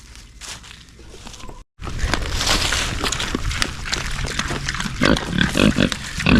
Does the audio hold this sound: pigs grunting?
yes